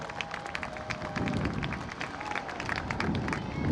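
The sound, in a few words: audience applause for homecoming court at football game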